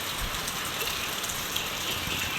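Steady, dense typhoon rain pours down without a break, a broad hissing roar with spattering on surfaces close by.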